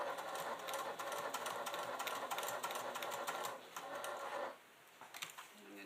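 A sewing machine runs steadily while stitching a quilted black leather clutch, with a brief back stitch. The rapid mechanical whirring stays close and continuous, then drops off and resumes in a few short bursts near the end.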